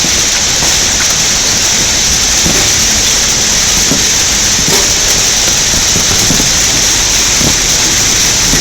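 Hail pounding down during a sudden storm in clear-skied Texas, a dense, steady roar of ice pellets striking surfaces, loud and continuous with scattered sharper impacts throughout.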